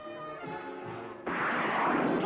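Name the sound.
glass being broken by wingtips in cartoon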